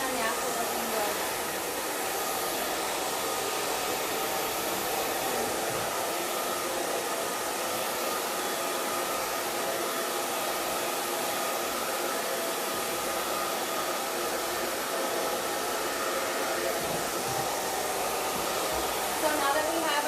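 Hair dryer blows steadily while hair is brushed straight with a paddle brush, a constant loud airy whoosh running unbroken throughout with no pauses.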